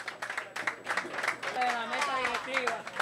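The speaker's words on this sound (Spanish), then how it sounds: "Fuerte el aplauso para Lorenzo Faña." Applause and clapping from a crowd at a 2017 cycling awards ceremony, steady throughout, with an announcer's voice speaking over it.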